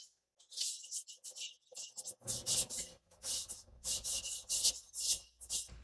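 Paper glued onto a craft tag is rubbed down by hand, making a steady series of close, soft dry scrubbing strokes in short bursts, no voice.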